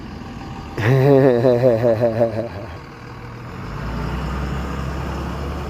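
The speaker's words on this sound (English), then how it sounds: "Diesel trucks" Heavy diesel trucks rolling through city traffic, one loud close pass with a rising engine drone and rhythmic pulsing that fades into a lower continuous road rumble.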